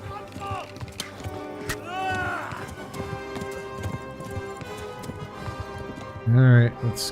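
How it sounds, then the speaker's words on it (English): Horse galloping in Kingdom Come: Deliverance, a steady run of hoof clip-clop beats under game music, with one brief louder burst near the end. "I'm just going to keep the horse in a gallop until we get to this part."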